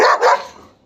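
A fierce, aggressive dog gives two quick sharp barks close by, loud and alone, trailing off into a short fade.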